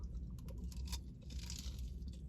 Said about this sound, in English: That crunch though.